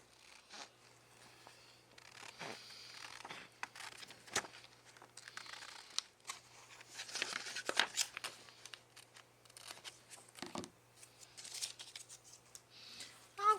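Scissors fussy cutting fabric: quiet, close snips and crisp cuts come in irregular bursts with short pauses between them, and faint rustling of the cloth, with no talking.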